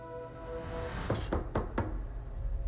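A movie trailer door knock: four sharp raps in quick, slightly uneven succession, heard over a low droning musical bed.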